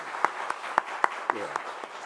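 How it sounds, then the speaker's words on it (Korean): A church congregation claps in encouragement during a Sunday service: about eight evenly spaced, fairly soft claps in a steady rhythm, with a brief low murmur midway. "여러분 박수로 한번 격려해 주시고요"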